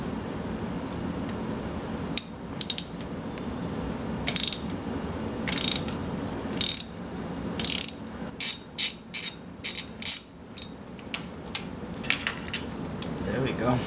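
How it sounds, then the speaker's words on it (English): A ratchet wrench on a long extension loosens spark plugs in the engine of a 2000 Audi S4, giving short bursts of clicking close up, growing more frequent toward the end. "Now we're going to remove the spark plugs."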